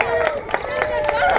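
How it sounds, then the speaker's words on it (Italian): Clapping and cheering from a crowd at a medieval reenactment event, greeting the duel fighters before a bout, a steady wash of applause with crowd noise. "Un applauso ai nostri uomini!"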